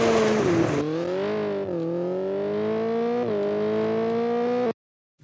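Rally car engine in Richard Burns Rally revving hard and steady, its pitch climbing and dipping through gear changes as the car accelerates toward a flick, loud and close, cutting off abruptly near the end.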